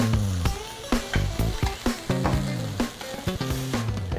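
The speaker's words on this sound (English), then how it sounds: "let's add our greens. Once again, just a quick little saute." Greens given a quick sauté in a hot pan, a loud close sizzle broken by rhythmic tossing and stirring clatters in short bursts, with no speech.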